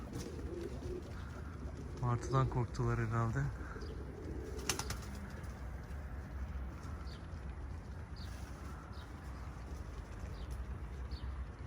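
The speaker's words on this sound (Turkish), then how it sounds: "Kuşlar dağıldı." A flock of pigeons scatters and takes off in a brief rush of flapping wings, followed by quieter scattered flutters against outdoor ambience, while a man remarks on the birds partway through.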